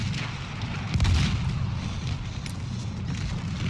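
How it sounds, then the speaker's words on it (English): A tank cannon firing in Battlefield 1 multiplayer, a heavy boom about a second in that leaves a rolling rumble, with distant gunfire and battle noise continuing after it. "Tank's firing at me."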